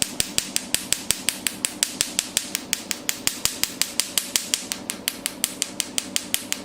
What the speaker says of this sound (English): Blasting sounds, that means it's good effect.